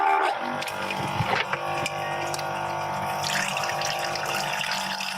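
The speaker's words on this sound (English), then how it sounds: "I'm actually gonna drain some of that water inside." Pasta water being drained inside a camper van, a steady pouring, splashing stream of water running close by without a break for the whole stretch.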